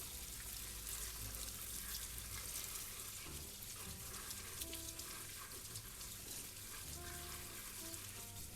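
Steady running water from a tap, rinsing kale for a sautéed kale dish, a continuous broadband rush that holds level throughout with no talk over it.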